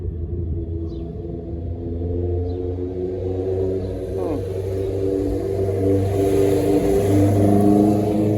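A motorcycle engine revs nearby, its steady low rumble swelling in loudness over several seconds and holding on strong toward the end, with no voices over it.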